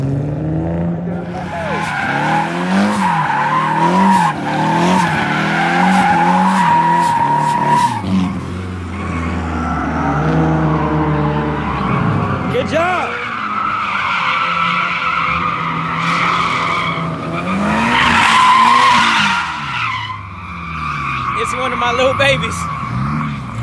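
A BMW drifting at a drift clinic, its engine revving hard and rising and falling as the tires squeal in long, loud slides, with a voice speaking over it at times.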